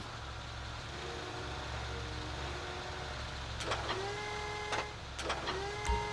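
Heavy container handler machinery at a shipping port in GTA 5, a steady low engine drone with repeated sharp mechanical whines and hydraulic clanks near the end, fairly close.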